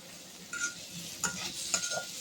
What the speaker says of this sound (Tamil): இந்த வெங்காயம் பச்சை வாசனைலாம் போகிற வரைக்கும் வதங்கட்டும்